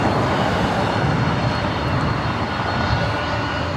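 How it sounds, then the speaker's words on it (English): A 27-year-old Delta Airlines Boeing 767-300ER jet, flight 465 to Honolulu, at LAX airport makes a loud, steady, broadband engine roar that stays close and continuous throughout. "27-year-old 767-300ER, Delta Airlines Flight 465, heading to Honolulu"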